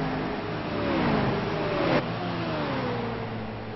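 A stock car drives down pit road at Charlotte in a Cup Series racing video game, its engine droning and building as it approaches, then sweeping past with a falling pitch and fading, close and loud throughout.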